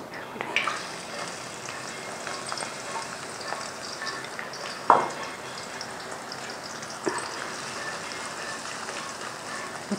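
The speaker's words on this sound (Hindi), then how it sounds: "तेज़ फ्लेम करके इसको प्याज को भी फ्राई करना है।" Onion frying over a high flame with okra for chatkhara bhindi, a constant crackling sizzle like light rain, with a few sharp clicks and knocks of a spoon, close and moderately quiet, no voices.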